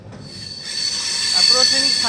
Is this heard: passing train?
yes